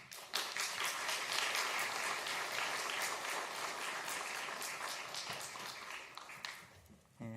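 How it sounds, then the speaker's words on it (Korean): A church congregation applauds warmly as a visiting pastor comes up to the stage, a dense, even wash of many hands clapping at moderate distance, sustained for several seconds and fading at the end. "우리 나오실 때 큰 박수로 우리 환영하면 좋겠습니다"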